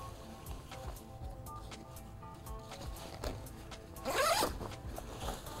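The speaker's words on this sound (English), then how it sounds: "You have a zipper that will have zippers from both ends." The zipper on the sleep compartment of a USMC pack is pulled in one quick, loud zip after some quiet rustling and handling of the fabric.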